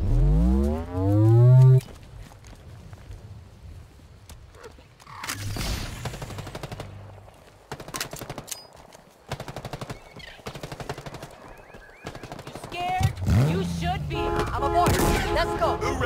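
Rapid bursts of automatic weapon fire from the video game Halo Infinite, loud and choppy, arriving in several clusters amid explosive impacts and game effects, with a voice calling out briefly.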